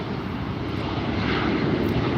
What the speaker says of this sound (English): Just love this bright blue color on the ITA's jet.